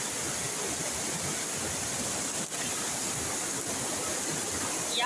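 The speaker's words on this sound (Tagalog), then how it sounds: "Ay, napakalaki ng tubig." Floodwater rushing through a cave used as a washing and water-collecting spot, a loud, steady, broadband roar of churning water that continues unbroken throughout.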